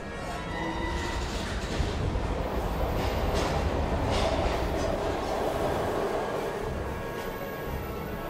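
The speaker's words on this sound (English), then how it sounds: "We've got to get on that train, Ethan." Video game train heard as a rumbling, rattling carriage with a steady rolling clatter and faint wheel screech, a moderately loud continuous sound with no talk.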